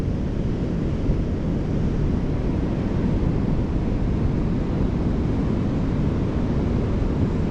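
Heavy surf crashing along a shore under hazardous sea conditions at sunset, with a constant loud, dense roar of breaking waves mixed with wind buffeting the microphone, no voices.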